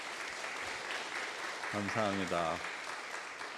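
Church worshippers applaud to welcome visiting guests during a Sunday service, a steady patter of clapping throughout as a voice briefly speaks over it.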